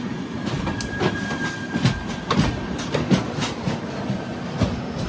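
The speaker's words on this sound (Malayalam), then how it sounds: "ട്രെയിൻ ഇപ്പോൾ കായംകുളം ജംഗ്ഷനിലേക്ക് എത്തുകയാണ്" The Kerala Sampark Kranti Express rolls into Kayamkulam Junction, a loud steady rumble broken by rhythmic clickety-clack wheel beats over rail joints, recorded from on board.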